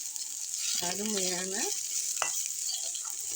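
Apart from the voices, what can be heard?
tempering spices frying in oil for soup rasam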